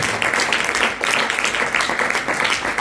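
Congregation clapping during a Spanish-language church sermon, a dense, steady round of hand claps from many people with no voices over it.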